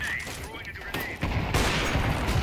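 Bursts of rapid gunfire in Counter-Strike 2 crackle loudly, a sustained fusillade that intensifies midway, with a voice talking over it.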